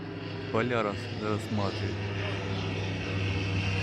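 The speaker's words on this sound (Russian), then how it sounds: "смотри, самолет" A small propeller airplane, like a toy-sized light craft, passes overhead in the countryside with a steady droning hum beneath people chatting nearby.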